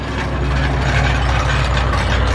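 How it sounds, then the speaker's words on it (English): A car jack lifts a car for a wheel change after the lug nuts are loosened by hand, a loud, close, steady run of rhythmic mechanical ratcheting over a low droning hum. "now he's going to jack it up"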